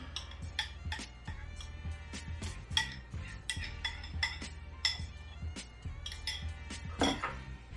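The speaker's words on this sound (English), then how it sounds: "I'll smooth it out with my knife and everything" A knife smooths the topping over a Cracker Barrel-style meatloaf in its pan, giving quiet scrapes and scattered metallic clinks and taps at an uneven rhythm, close and fairly soft, with no voices.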